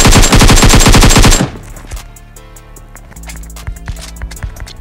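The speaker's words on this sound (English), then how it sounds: "Someone was shooting me outside." Loud, rapid automatic gunfire from PUBG Mobile, a dense burst lasting over a second, then quieter scattered clicks and small impacts in the game.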